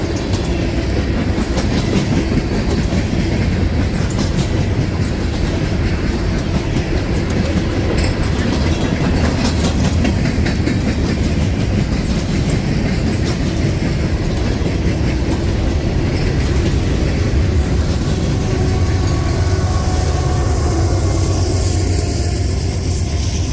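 A Norfolk Southern freight train, NS 171 with a Union Pacific AC44 locomotive mid-train, rumbles past close and loud, wheels clattering steadily over rail joints for the whole passage with continuous heavy rolling roar.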